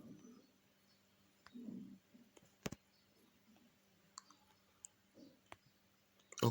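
Sparse computer mouse clicks, sharp and close, scattered irregularly over faint room noise, with a few low murmurs between them.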